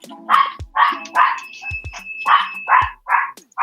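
A dog barks repeatedly in a quick, irregular series of loud, close yaps.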